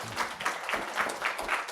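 An audience at a supply chain technology conference claps for a speaker in a brief burst of steady applause, medium distance, without talk.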